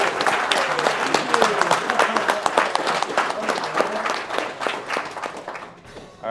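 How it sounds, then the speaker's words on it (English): Live audience applause at a video game speedrun marathon event, a dense wash of many hands clapping steadily for several seconds before thinning out at the end, with some voices mixed in. "I don't know why people are clapping for RNG"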